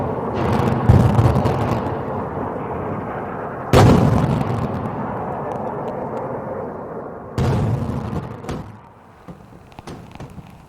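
Heavy explosions from rocket and drone strikes on northern Israeli towns boom out in three separate loud blasts, each followed by a long rumbling decay, with no voices.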